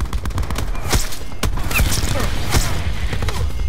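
A Mog 12 shotgun fires in rapid succession during a hardcore-mode video game match, giving several sharp, loud blasts spaced under a second apart over background game noise.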